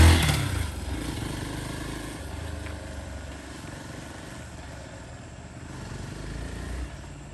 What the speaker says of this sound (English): Son is testing my bike.